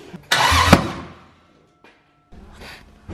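A Toyota 2JZ engine swapped into a BMW E36 cranks and briefly fires on its first start: one loud, close burst that quickly dies away, then a shorter, fainter attempt follows.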